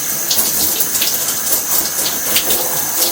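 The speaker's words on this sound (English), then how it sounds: "rinse face" Shower water runs steadily while a face is rinsed, a close, loud, even splashing hiss with small fluctuations as hands move through the stream.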